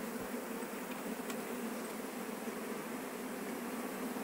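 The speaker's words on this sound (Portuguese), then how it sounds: "E era um enxame muito grande perto da residência." A large honeybee swarm hums near a house, a steady, fairly faint drone of many wings with a soft constant hiss and no talk.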